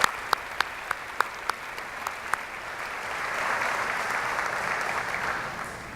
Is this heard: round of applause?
yes